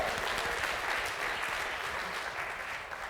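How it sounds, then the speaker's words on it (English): Audience applause fills a live awards show, the 2017 BIT Awards in New York City, a steady broad wash of clapping from a crowd that holds even for about three seconds with no voices over it. "hey, we can clap it up"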